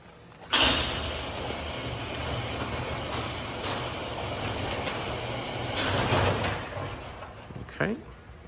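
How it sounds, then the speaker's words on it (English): A residential garage door rolls open with a sudden clack, then a long rumbling, rattling slide that builds, ends in a clunk, and fades, heard nearby. "Let me just open up my garage door here."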